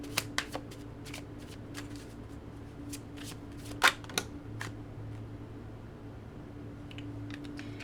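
Tarot cards are shuffled and drawn at close range, a run of crisp flicks and slaps spread through the clip with one sharper snap near the middle, no talk.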